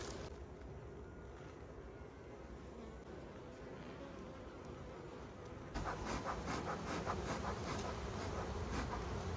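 Honey bee swarm packed into a swarm trap box, its dense buzzing drone filling the whole stretch and growing louder and busier about two thirds through as a frame is pulled out; close but quiet, with no talking.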